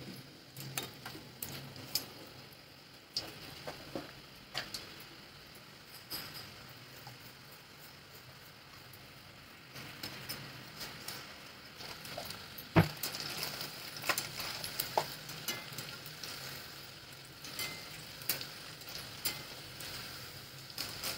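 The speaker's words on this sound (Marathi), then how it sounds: "आता मीडियम फ्लेमवरती ते तळून घेते." Wheat flour and jaggery kapanya frying in hot oil over a medium flame, a faint steady sizzle with soft ticking crackles running throughout, and one sharp clatter partway through.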